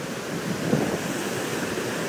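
Choppy, rough sea along a coastline in the aftermath of Hurricane Sandy makes a steady low rushing roar of churning water, close and continuous with wind noise over it and no distinct breaking waves.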